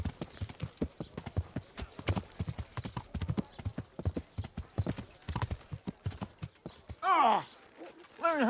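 Horse hooves clip-clop at a steady, brisk pace in the medieval video game Kingdom Come: Deliverance, close and continuous, with a short whinny near the end.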